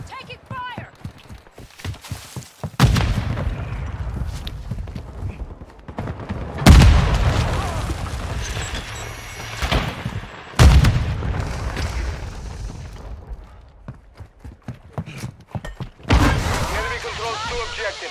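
Call of Duty Modern Warfare 2 multiplayer Domination match: heavy booming explosions at intervals over rapid crackling gunfire, with game voice callouts and a player talking between the blasts.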